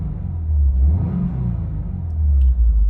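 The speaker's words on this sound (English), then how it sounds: "Give you a little bit of a rev" A 2022 Subaru WRX engine revving as heard from inside the cabin, a loud low rumble that swells and eases back over a few seconds with no talk.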